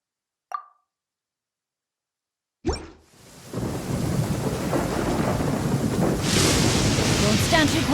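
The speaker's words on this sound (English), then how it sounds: "It always rains when I go on an adventure." Rain and thunderstorm in the video game Genshin Impact: a short plop, then a sharp thunder crack that swells into a steady, dense wash of heavy rain, with a brighter burst of rain hiss near the end.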